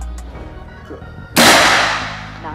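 A single sharp crack from a semi-automatic air rifle firing its first shot, loud and close, with a quick decaying tail after a stretch of quiet room noise.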